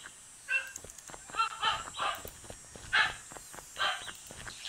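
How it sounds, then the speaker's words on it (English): A dog barks and yips in quick, uneven bursts, several close-together calls at moderate distance, fairly faint over a quiet background. "Can you hear my dog?"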